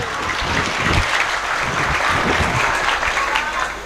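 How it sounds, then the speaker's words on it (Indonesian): An audience at a religious sermon applauds steadily, a dense wash of clapping hands that holds at an even, fairly loud level throughout. "Tepuk tangan heula tuh."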